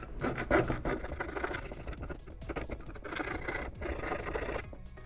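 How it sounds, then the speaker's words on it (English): Sandpaper wrapped around a small dowel rasps steadily back and forth while shaping a Boba Fett jet pack prop, a close, continuous scratchy rubbing with no talk. "take a small dowel and wrap some sandpaper around it"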